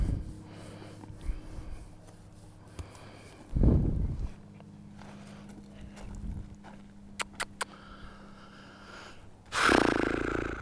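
A horse breathes and snorts right beside the microphone during a training session, with a loud close blast of breath near the start, another heavy snort near the end, and softer snuffles and shuffling in between.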